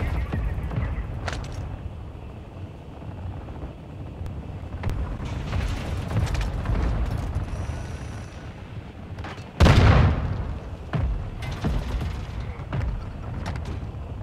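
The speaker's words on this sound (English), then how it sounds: "He's dropping a mortar strike." Mortar strike explosions in the video game Call of Duty DMZ: a continuous rumbling bed of booms and sharp cracks, with one loud, close blast standing out near the end.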